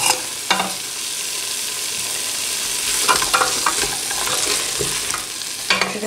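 Meat browned with herbs, onion and spices frying in a pot for a Ramadan iftar dish, soaked chickpeas being added; steady close sizzle with a few stirring scrapes and utensil knocks, no talking.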